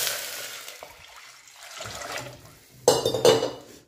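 Water poured into a pot of spices fried in oil for veg pulao: a faint bubbling and clinking at first, then a loud splashing gush with a sharp hiss near the end.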